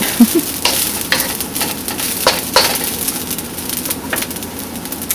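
Garlic fried rice, sinangag, sizzling steadily in a pan, a dense continuous frying hiss with faint scraping and stirring textures, close and fairly loud, with no voices.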